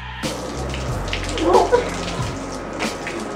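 Water splashing and pouring during a water-soaking game, with the water reused to water plants. A steady wash of spray with a brief, louder splash burst near the middle.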